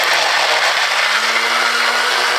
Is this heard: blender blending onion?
yes